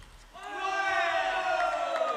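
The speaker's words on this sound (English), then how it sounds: "Cheer from the Texas Smash bench." A team bench cheers at a professional table tennis match, a sudden burst of shouting and whooping voices from several players that rises quickly and holds at a fairly close distance.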